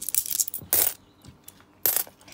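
Coins drop onto a hard surface during a tabletop magnet experiment, giving two sharp metallic clinks with short rattles and a few lighter taps between them, close and loud against a quiet background.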